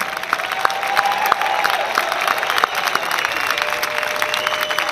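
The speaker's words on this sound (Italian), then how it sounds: "un applauso come quello che avete fatto adesso per la radio" A concert audience at a jazz benefit event inside the Basilica di Collemaggio in L'Aquila, Italy, bursts into loud, sustained applause with some cheering, a dense wash of clapping from a large crowd.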